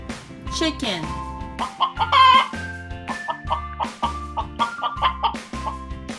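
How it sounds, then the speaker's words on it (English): A toy chicken gives a rapid, close run of electronic clucks and squawks, repeated in short bursts with brief gaps across the whole stretch. "It's a chicken."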